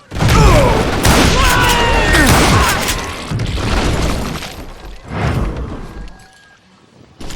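Gunfire and loud booms in the Western shooter Call of Juarez Gunslinger, close and heavy bursts that fade in waves over several seconds, mixed with game voices.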